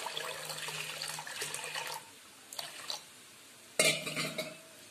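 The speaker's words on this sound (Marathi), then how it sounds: "एक इंच पाणी टाकून 5 ते 7 तासासाठी भिजत घालूया." Water poured into a bowl of washed urad dal to soak it, heard as short splashy bursts and clinks of a vessel or spoon, fairly close with quiet gaps between, no talking.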